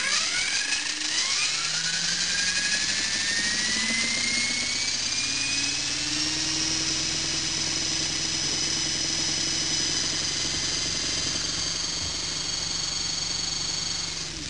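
A model helicopter's rotor spins up with a rising whine and climbing harmonics, holding a steady loud drone with mechanical rattling throughout.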